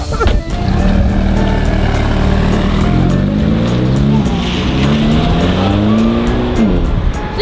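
A manual-transmission Mercedes drives nearby, its engine revving loud and steady with rising and falling gear pulls, faint tire squeal mixed in, and people talking faintly over it.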